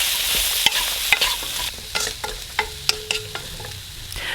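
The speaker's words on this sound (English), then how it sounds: "Let's add in all of the seasoning and then give this a really good mix until everything is" Tofu tossed with salt and pepper seasoning in a hot pan: steady sizzling frying hiss with repeated sharp clacks and scrapes of a utensil stirring, close and fairly loud, no voices.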